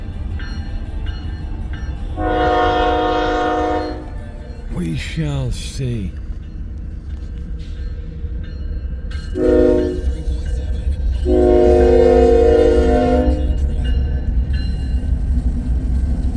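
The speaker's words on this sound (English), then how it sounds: "it looks like it's going to be another unit train of grain or corn" A Union Pacific freight unit train of grain cars rumbles past steadily, its horn blaring in long harmonic blasts, with a short burst of talk in between.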